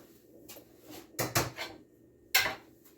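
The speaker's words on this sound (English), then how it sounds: "I'm going to grab a bowl." A few sharp clatters and knocks of crockery and a cupboard in a home kitchen as a bowl is grabbed, two close bursts followed by one more, loud against a quiet background.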